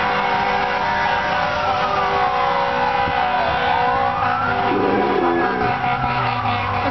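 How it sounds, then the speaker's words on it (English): Wailing emergency sirens sweep up and down continuously, loud and close, over steady traffic rumble with no talking. "Do you not hear the fucking sirens?"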